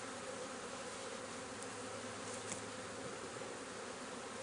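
Honey bees buzz steadily at a Langstroth beehive during a harvest of full honey frames, a dense, continuous drone close by that holds at an even level throughout without talk.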